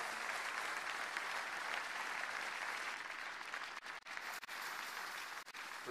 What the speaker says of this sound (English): Please keep clapping for him until you hear his voice.